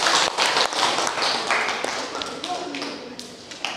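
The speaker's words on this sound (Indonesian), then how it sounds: "Berikan tepuk tangan dulu." Students in a classroom give a brief round of applause for a group. Scattered clapping from a few pairs of hands starts strong and thins out, with voices talking over it.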